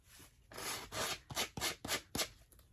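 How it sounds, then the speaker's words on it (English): Close, dry rasping strokes of hand sanding painted wood down to bare wood in spots, a run of uneven back-and-forth rubs with short pauses between them, no voices. "the only places I'm sanding down to raw wood is just to get rid of the bits"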